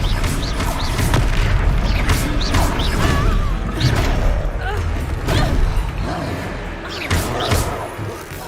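Spell impacts and magical bursts in Hogwarts Legacy combat, repeated booming whooshes and thuds close up, with voices talking and shouting over the action.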